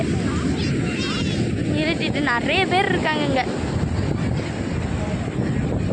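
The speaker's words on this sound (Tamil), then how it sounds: "காற்று சில்லுன்னு வருது." Cool wind gusts across the microphone at a busy beach with rolling sea waves, a steady broadband rush filling the whole clip beneath close conversational voices.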